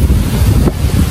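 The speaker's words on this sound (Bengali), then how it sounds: "এদিক দিয়ে প্রচুর বাতাস শুরু হয়ে গেছে" Strong wind gusts outdoors near a fishing area by a wetland as a storm rises, a loud continuous low rumble buffeting the microphone throughout, with no voices heard.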